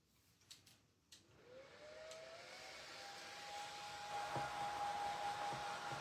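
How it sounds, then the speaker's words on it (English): A small handheld fan blows air over a wood-block craft piece, its motor spinning up after a few light knocks and settling into a steady whirring hum with a thin whine, fairly quiet and close. "I am going to get my little fan out and blow it a little bit with my fan."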